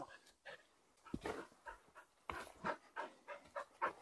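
Laika hunting dog on a raccoon dog hunt panting quickly and letting out soft whimpers, close and fairly quiet outdoors, with rhythmic breathy bursts.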